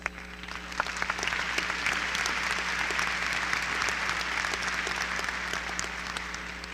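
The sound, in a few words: audience applause at a college commencement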